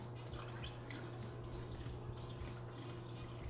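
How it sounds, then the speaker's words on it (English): An auto top-off pump refills a reef aquarium with RO water, producing a steady low hum with soft, continuous trickling and dripping throughout, with no talking. "there goes the auto top off since I moved everything"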